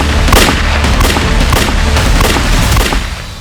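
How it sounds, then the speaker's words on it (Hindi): Loud, dense rapid gunfire rattles through a police crime drama shootout, the bursts overlapping almost continuously with no talk. "क्या फायरिंग?"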